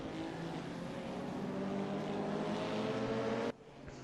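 Engine of a V8 Radical prototype race car at Mid-Ohio, a steady loud drone with layered harmonics holding for about three and a half seconds before dropping off abruptly.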